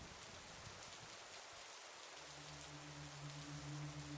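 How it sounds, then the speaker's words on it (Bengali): Heavy rain falls outside in a dense, even patter, with a low steady hum rising underneath partway through, and no voices. "বাইরে বৃষ্টির তীব্রতা বাড়ছে"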